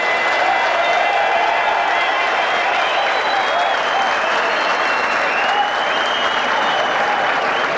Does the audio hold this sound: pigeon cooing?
no